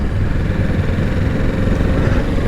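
The engine of a 2025 Kawasaki Z650 naked motorcycle hums close and steady while riding around town, a continuous low, throaty drone with slight vibration and no sharp revs.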